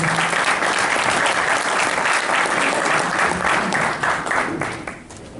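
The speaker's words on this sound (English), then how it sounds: "Give them a round of applause." A large audience at a campus event honoring the Tuskegee Airmen gives dense, sustained applause with no gaps. It stays loud and even, then thins and fades out near the end.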